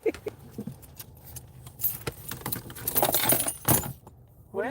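Keys jangle in a string of light metallic clinks and rattles, then clatter onto the floor. The sounds are close but fairly quiet over a faint background.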